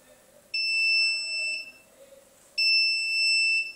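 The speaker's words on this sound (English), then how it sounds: "It triggered an alarm that it detected the motion." A security camera connected over WLAN sounds its motion-detection alarm as two loud, steady electronic beeps of about a second each, separated by a short pause, with no voices over them.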